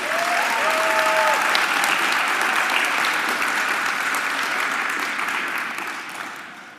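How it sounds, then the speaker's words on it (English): Audience applause fills a school board meeting room, steady clapping from a crowd that holds for several seconds and then gradually tapers off, with no talking over it. "Can we give them another round of applause?"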